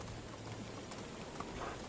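Hoofbeats of a horse galloping in the farming video game Medieval Dynasty, a steady quick clip-clop rhythm held at a moderate level throughout with a faint ambient wash behind it.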